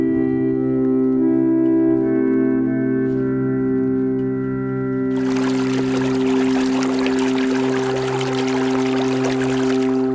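A waterfall near the Sylhet border bursts in as a loud, dense roar partway through, after a stretch of sustained tonal music that continues faintly beneath the rushing water.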